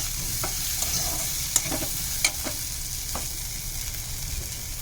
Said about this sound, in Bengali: এখন আম্মু দেখে একটা একটু ভেজে লাল লাল করে নিবে।